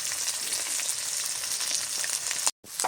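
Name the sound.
chopped onion added to frying crab masala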